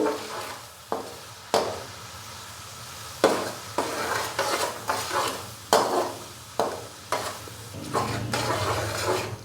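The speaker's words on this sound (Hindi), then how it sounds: "और हल्का सा हम इसको भून लेंगे 1 से 2 मिनट के लिए" Salt and a handful of cloves fry lightly in a pan for chicken vegetable fried rice, a steady sizzle broken by repeated sharp scrapes and stirs of a spoon against the metal, close and alone with no talking.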